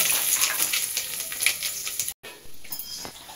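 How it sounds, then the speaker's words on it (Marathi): Cumin and mustard seeds sizzle and crackle steadily in hot oil for a tempering, with a dense continuous hiss, a brief gap near the end, then more sizzling, close and fairly loud. "फोडणीला टाकलेलं आहे जिरं मोहरी"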